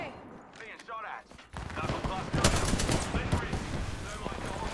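Rapid bursts of automatic gunfire in the battle royale video game Apex Legends, loud and dense for most of the stretch, with heavier volleys and sharp shots layered over background game noise.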